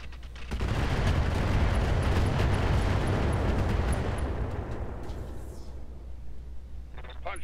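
Weapon fire and explosions in the mech combat game Roguetech, a loud sustained barrage of booming, crackling blasts that holds for several seconds and then slowly fades, with a voice speaking near the end.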